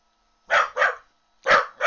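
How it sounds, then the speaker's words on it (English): A dog barks two pairs of quick, sharp barks with a pause between, close by and loud, with no other sound around them. "Oh, that's my dog."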